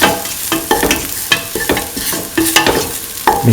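Salt paste being stirred into a frying tofu and potato stew, with a run of scraping stirs and soft sizzling, close and alone.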